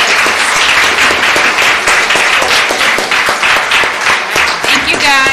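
An audience applauds children at a church performance, a loud, sustained round of clapping close by with a voice briefly cutting in near the end.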